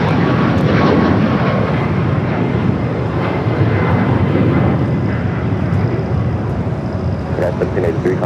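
An airliner takes off from runway 25 Right at Los Angeles International Airport, its engines making a loud, sustained roar for the whole stretch while people talk over it.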